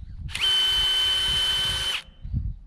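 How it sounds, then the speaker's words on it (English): A power drill bores into a wooden fence post for a sheep pen gate, a loud, close, steady whine lasting about a second and a half before cutting off. "Let's go ahead and drill this first hole here."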